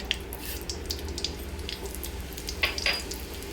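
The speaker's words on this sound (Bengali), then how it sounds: "এই তেলে এখন আমি একে একে ফোড়ন দিয়ে দিব প্রথমে দিব আমি ওয়ান টেবিল স্পুন কালো জিরা" Black cumin seeds sizzling as a tempering in hot oil, the oil previously used for frying cauliflower and potatoes. A steady close frying hiss carries sharp crackles and spits scattered throughout, a few louder pops near the end, with no talking.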